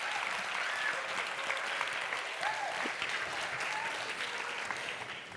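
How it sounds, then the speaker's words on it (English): Audience applause for a speaker, Yavor Razboinikov, at the European Night of Ideas at the Collège de France: steady, dense clapping from a sizable crowd filling the room, sustained and even throughout, fading slightly at the end. "A round of applause for Yavor."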